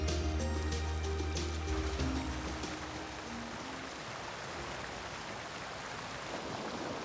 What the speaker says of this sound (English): Light rain can quickly turn tranquil pools into rapids.